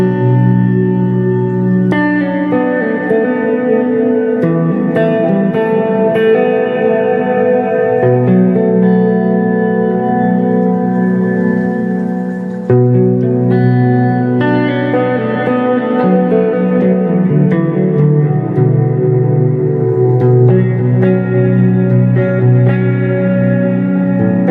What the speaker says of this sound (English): So now I have 2 reverbs going.